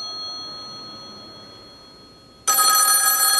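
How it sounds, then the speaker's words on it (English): Western Electric rotary wall telephone ringer bell bursts in suddenly after a faint lead-in, a loud, bright, continuous ring set to its loud setting, heard close with no talking. "And the ringer does have an adjustment on the bottom for loud and soft."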